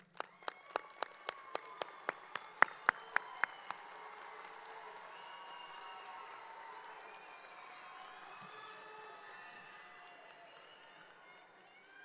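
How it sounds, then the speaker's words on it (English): Audience at the Centennial High School Class of 2025 graduation applauds their support team, opening with about a dozen sharp, evenly spaced claps that give way to a sustained wash of crowd clapping and murmur lasting several seconds. "Graduates, please take a moment, turn, and applaud your support team"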